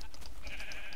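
Sheep bleating in the Minecraft video game, a few short repeated synthetic bleats over a steady game background hum, fairly close and moderately loud with no talk.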